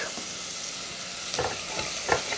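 Chopped carrot, celery and garlic sauteing in a pan, a steady close sizzle with a few soft stirring scrapes near the end.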